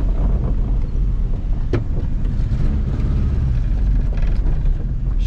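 A 1977 VW Passat TS on the road, with a steady, loud engine drone and broad road and wind rumble filling the interior, plus a brief knock partway through.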